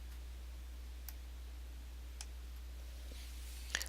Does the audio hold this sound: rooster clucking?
no